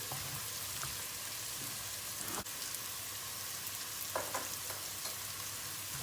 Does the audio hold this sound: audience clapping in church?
no